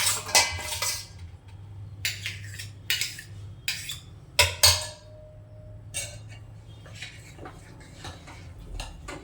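A spoon stirs mashed potato into dabeli masala in a metal pan, with repeated scraping and clinking strokes in uneven bursts and quiet gaps between them, close and clear, with no talking.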